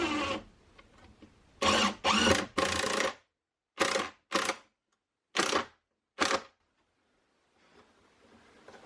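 A power drill drives screws into a wooden workbench vise in short whirring bursts, several quick runs separated by silent pauses, close and loud.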